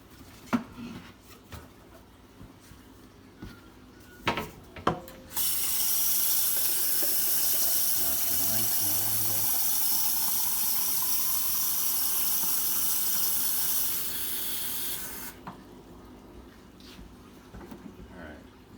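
Water poured steadily into a tabletop water fountain, a loud continuous splashing gush lasting about ten seconds before cutting off, with scattered handling noises around it.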